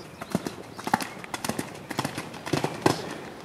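A ridden horse's hooves clip-clop in a steady, quick rhythm on firm ground during a jumping course, close by, with a light rustle between the beats.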